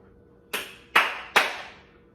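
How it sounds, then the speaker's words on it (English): Three sharp hand claps ring out one after another with short gaps, alone in a quiet room during a dog training session. "take 1 step back, clap my hands, and go back"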